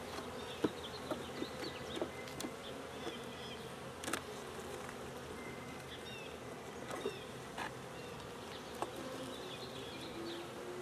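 Honey bees from a new 2022 package swarm around an open hive, a continuous soft buzzing hum with occasional louder individual bees passing close, plus faint handling knocks.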